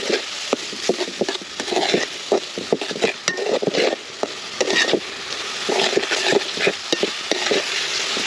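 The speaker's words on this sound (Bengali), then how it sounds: "এটা ভালো করে কষিয়ে নিই যাতে আদা রসুনের কাঁচা গন্ধটা না থাকে" Ground chilli, turmeric and other spices sautéing with ginger and garlic in a pan, a loud close sizzle with constant rhythmic stirring and scraping of a spoon against the pan.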